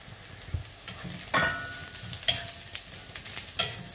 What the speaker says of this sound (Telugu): ఇవి కొంచెం చక్కగా కొంచెం మీకు ఫ్రై అవ్వాలండి, షాలో ఫ్రై అవ్వాలి